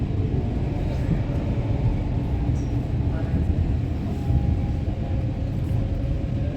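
Interior rumble of a SkyTrain running from Richmond-Brighouse to Waterfront in Vancouver, a continuous low droning roar of wheels and motors, with a person talking faintly over it.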